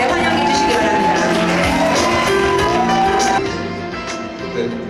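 An audience welcomes a speaker with loud, continuous crowd noise, cheering and clapping mixed with shouts, before easing off slightly toward the end.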